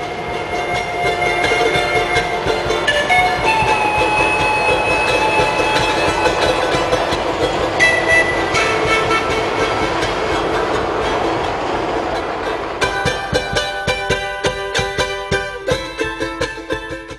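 A train to Machu Picchu, Peru, rumbles steadily, close and loud, wheels clattering over the rails, with a rhythmic clickety-clack growing more distinct toward the end.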